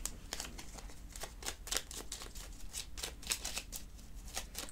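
Tarot cards are shuffled and handled close up, a quick run of soft riffling flicks and slides repeating rhythmically at a low, even level.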